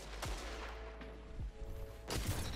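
Hand cannon fire in the shooter game Destiny 2, several heavy booming shots spaced apart over low rumbling game ambience, loud and punchy.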